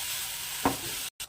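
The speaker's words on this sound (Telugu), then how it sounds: "వీటన్నిటిని బాగా వేయించుకోవాలండి పచ్చివాసన పోయే వరకు" Spice masala paste with chilli powder and turmeric frying in a pan, a soft continuous sizzle with one brief stir, then a short cut to silence before the sizzle resumes.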